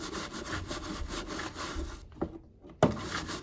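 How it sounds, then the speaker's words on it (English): A brush scrubs with quick rhythmic strokes inside a Bosch Classixx 6 1400 washing machine, up near the water jets, followed by a short pause and a couple of sharp knocks. "a brush, and ideally what we're going to do is be scrubbing"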